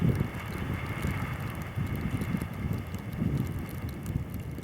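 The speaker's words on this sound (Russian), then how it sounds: "Сейчас подымусь к ветряку, чтобы вы услышали, как шумят лопасти." Wind turbine blades whirring in a winter wind, heard from close by as a steady, rushing low drone with gusty swells and rough wind buffeting the microphone.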